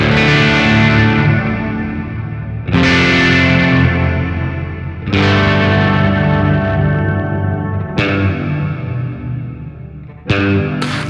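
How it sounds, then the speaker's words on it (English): Sustained guitar chords run through a Meris Mercury X reverb preset that adds polychroma pitch shifting and a chorus, giving a wide, shimmering wash. Four loud strums each ring out and decay before the next one, with no talking. "Pitch is the polychroma. Location is pre-dry, so that's how come you're getting some of that pitch going into the reverb."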